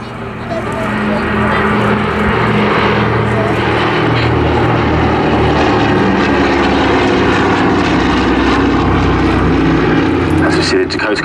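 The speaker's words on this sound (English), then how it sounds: "See the Dakota come out of the Orbit 360." A Douglas C-47 Dakota in D-Day stripes performs an airshow display at Southport, its propeller engines giving a loud, sustained droning roar as it passes close by, with a commentator talking over it.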